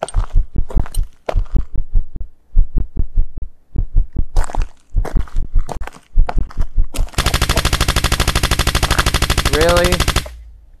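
Gunfire from a hunter character in the horror video game The Outhouse: bursts of sharp repeated shots in uneven clusters, then a dense rapid continuous rattle for several seconds, loud and close, with no talking.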